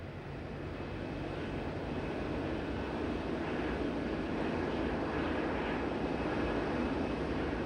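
A Boeing B-52 bomber fitted with a Pratt & Whitney JT9D test engine in place of two of its normal engines, flying with a steady, dense, broadband roar that holds unchanged throughout, distant and without voices.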